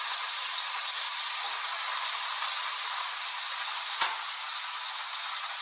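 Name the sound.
fish cooking in a pan for Jamaican ackee dish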